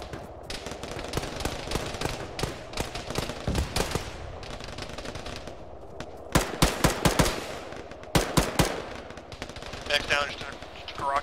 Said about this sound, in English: Machine gun fire from the south.